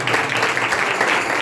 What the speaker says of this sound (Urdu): تالیاں بجائیے خدا کے لیے